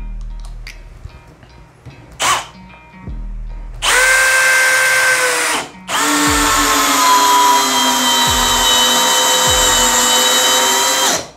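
A Bosch GSB 185-LI cordless drill drives a 5x16x110mm roof screw in two long, loud whirring runs separated by a brief pause, with a short burst and clicks before them.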